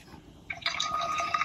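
Champagne poured into a glass with a bright fizzing, bubbling rush that starts suddenly and continues steadily, fairly close.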